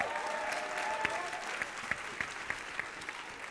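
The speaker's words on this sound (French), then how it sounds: "Là, on peut applaudir ça, les amis" An audience at a French-language talk applauds, a dense wash of clapping with distinct individual claps standing out near the end, and a voice briefly heard at the start.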